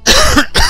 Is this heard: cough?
yes